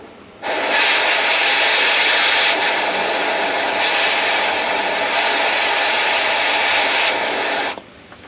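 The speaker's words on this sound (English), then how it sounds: "It melts the plastic rather than trying to cut it." A heat tool melting through brittle plastic gives a steady, loud hissing blast of hot air that starts abruptly and runs about seven seconds before cutting off, with no talking.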